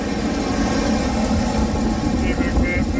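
A 2001 GMC Jimmy SLS engine idles after an intake gasket repair for vacuum leaks, producing a loud, close, steady mechanical drone with no stumbles or surges throughout.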